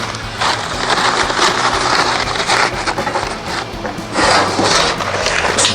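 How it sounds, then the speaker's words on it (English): Newspaper is twisted and coiled by hand to start a charcoal grill, making continuous close, crisp rustling and crinkling with some uneven bursts of louder crumpling. "You take some newspaper, turn it around, and coil it."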